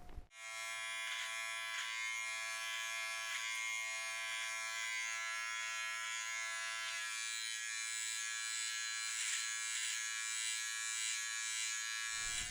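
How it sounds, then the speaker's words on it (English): Wahl electric beard trimmer buzzing steadily and close, a constant motor hum that runs alone for about twelve seconds, its tone shifting slightly partway through as the cutting load changes. "attach your number 1 guide comb to your trimmer"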